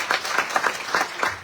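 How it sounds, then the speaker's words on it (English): An audience at a Navaratri night gathering at a Hindu temple in Toronto gives a round of applause, dense clapping heard close and steady with a rhythmic pulse of slightly louder claps. "Give Anthony a lovely round of applause, please."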